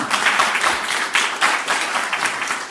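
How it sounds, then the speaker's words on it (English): A room full of guests at a Hamtramck, Michigan merchant meeting applauds, steady dense clapping sustained near and loud for its full length, with no talk over it. "Let's give them a round of applause"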